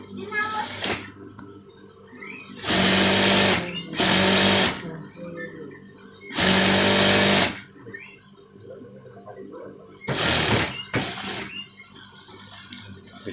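A sewing machine stitches the lining fabric of an almamater jacket at its back vent, running in several short, loud bursts with quiet gaps between them.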